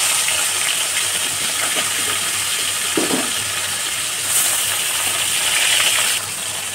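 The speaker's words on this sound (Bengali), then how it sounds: "মাছগুলো আমি তেলের করে ছেড়ে দেবো।" Koi fish sizzles as it fries in hot oil for tel koi, a continuous loud hiss and crackle with a few sharp pops and clinks throughout.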